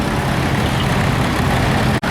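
Historic diesel tractor idling in the arena parade at the Laughton Autumn Show 2025, a steady low rumble close by that holds even throughout, with one brief dropout near the end.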